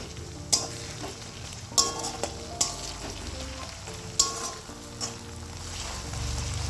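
Ginger garlic paste fries with browned onions in a pan for chicken curry, a steady sizzle punctuated by several sharp clanks of a spatula stirring against the pan, close and without talk.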